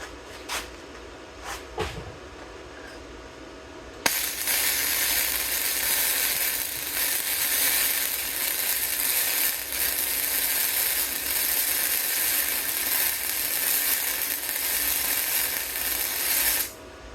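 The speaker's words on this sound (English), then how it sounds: "Again, a little ugly because it's flux, but it laid in a nice solid weld." A Bestarc Mig145 welder lays a flux-core MIG weld: after a few brief clicks and taps, a loud, continuous crackling sizzle starts abruptly and runs steadily for about thirteen seconds before cutting off.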